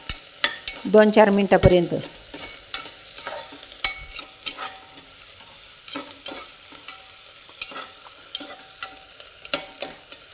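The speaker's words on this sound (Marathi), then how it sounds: "कांदा छान असा कलर बदलूपर्यंत परतून घ्यायचा" Sliced onion and green chilli sautéing in a pan: repeated scraping stir strokes with a light sizzle beneath, close and uneven in rhythm. A voice speaks briefly near the start.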